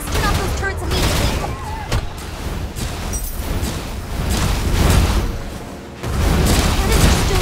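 Cannon fire rains down in the video game Torchlight: Infinite, a dense run of heavy booms and crackling blasts that stays loud across the whole stretch, dipping briefly before a final surge.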